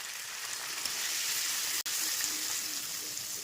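Tomatoes frying in a pan with salt and water for a Bengali tomato pabda fish curry give a steady, close sizzle that cuts out for an instant midway, with no talking.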